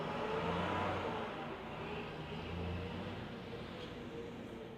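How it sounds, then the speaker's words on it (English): A loud truck rumbles past nearby, a steady low engine drone swelling briefly and easing off over a few seconds, with no talking. "Loud ass truck."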